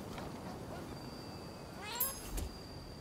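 Cat meows in the PS5 game Rise of the Ronin, a short rising call near the end of a quiet stretch, alone with faint in-game ambience.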